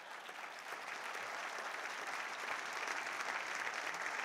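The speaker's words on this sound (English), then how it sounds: "go ahead, you can clap for him." A legislative audience applauds steadily at a city address, a dense wash of many hands clapping at a constant moderate level from a distance, with no pauses.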